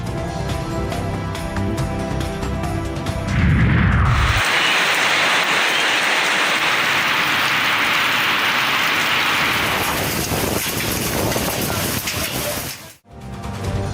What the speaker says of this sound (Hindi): लाहौर के मुख्तलिफ इलाकों में सुबह सवेरे बारिश।